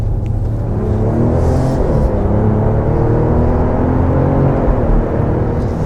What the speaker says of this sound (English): So if you feed in the gas a little bit, then stomp on it, there seems to be a little bit less turbo lag